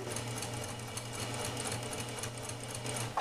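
A sewing machine stitches a straight quarter-inch seam, its steady mechanical whir running continuously and close for the whole stretch with no talking.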